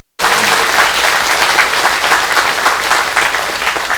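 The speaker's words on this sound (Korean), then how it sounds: "박수 한번 주세요." A crowd at an overnight Buddhist dharma talk breaks into loud, sustained applause, many hands clapping densely together in a steady roar that starts abruptly and fades slightly toward the end.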